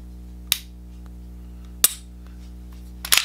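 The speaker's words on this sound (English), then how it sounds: "The reset on this, the trigger on this thing is exceptional." A Rost Martin RM1C pistol dry firing, with three sharp, close trigger clicks spaced over about three seconds, the last one doubled, over a low steady hum.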